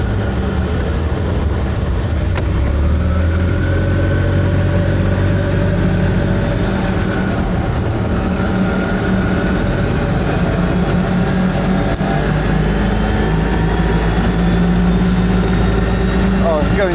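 Engine of an Invacar three-wheeled invalid carriage while driving toward London, a steady loud droning hum with rattling road noise throughout, and someone talking over it.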